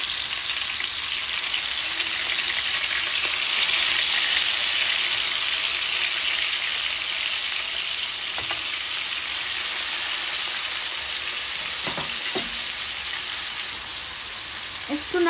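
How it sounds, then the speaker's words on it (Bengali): King prawns added to hot oil in a pan: loud, dense crackling sizzle that holds steady for a long stretch, with occasional spatters and light utensil clicks, no speech. "এখন আমি একটা একটা করিয়া কিংপ্রন গুলা দিলাইমু বা চিংড়ি মাছ, আর অনলি আমি 40 সেকেন্ড ফ্রাই করবো।"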